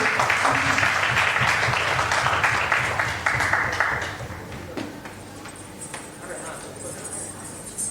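Audience applause at a corporate rewards and recognition ceremony, loud at first and then tapering off, with a voice talking over the clapping.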